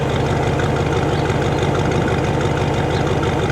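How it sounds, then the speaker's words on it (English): An International Harvester pickup truck idles steadily up close, its engine giving a low, even, continuous rumble with a regular pulsing beat and no voices. "how the engine sounds"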